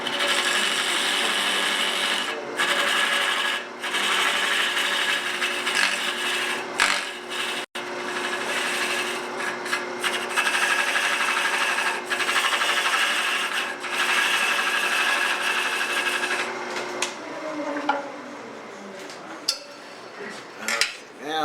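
A wooden salt pig being trimmed on a lathe: a steady, loud scraping and rubbing of the tool against spinning wood runs almost the whole time, with brief breaks, then eases into quieter rattles near the end.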